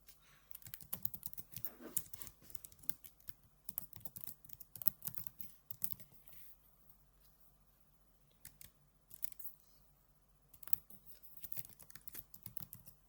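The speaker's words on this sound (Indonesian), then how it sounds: "dengan mengetikkan perintah sebagai berikut" Commands are typed on a computer keyboard, quick faint clusters of key clicks in bursts separated by short pauses, with no talking.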